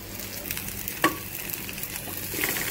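Mango pieces frying lightly in ghee give a low, steady sizzle with one sharp clink partway through, close and fairly quiet.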